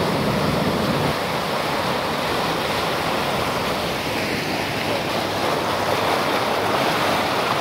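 Wash from an RNLI lifeboat rolling across the Solent: a loud, continuous roar of churning water and surf, close by, with no talk over it.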